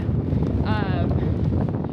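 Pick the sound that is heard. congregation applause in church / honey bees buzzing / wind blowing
wind blowing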